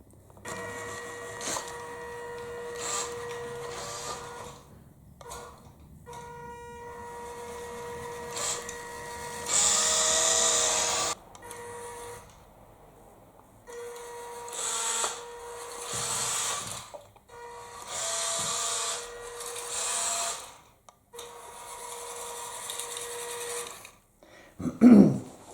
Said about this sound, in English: when you're steering, the motor seems to be going constantly on the steering mechanism.